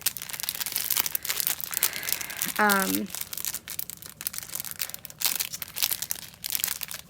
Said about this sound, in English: Trying to open it, crinkle, crinkle.